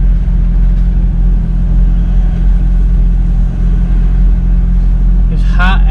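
A C6 Corvette engine idles after a spark plug change, a loud, steady low rumble that holds even throughout, with a short higher-pitched whine at the very end.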